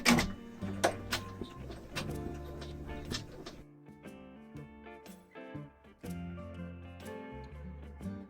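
An embroidery machine stitches a design onto fabric with rapid mechanical clattering and whirring, in uneven bursts with short pauses between them.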